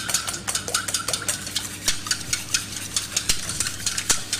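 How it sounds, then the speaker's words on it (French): Eggs being whisked into milk for a chocolate tart, a rapid rhythmic series of clicks and taps as the whisk strikes the bowl, steady and close with a faint low hum underneath. "Après nous mélangeons donc les œufs au lait."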